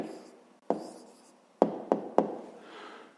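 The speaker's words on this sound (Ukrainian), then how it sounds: "Ну що ж, записуємо відповідь." Pen on paper writing down a math answer by hand, heard as a soft scratchy stroke followed by four sharp taps of the pen against the desk, close and quiet in an otherwise silent room.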